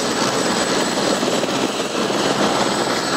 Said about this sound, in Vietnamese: đây có rất nhiều các cái trực thăng bay đi bay về liên tục để đón khách ở đây